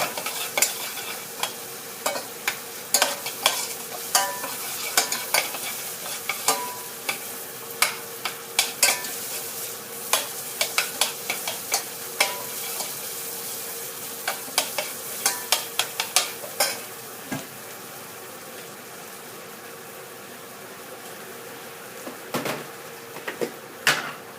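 Garlic is stir-fried in a hot pan with a steady sizzle throughout while a spatula scrapes and taps the metal in irregular, frequent strokes, close and clear with no talking.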